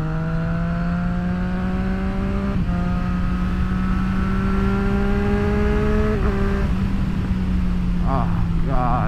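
2024 Triumph Street Triple RS motorcycle being ridden, its engine note climbing steadily through the gears in long rising sweeps with short shift breaks, loud and close under wind noise.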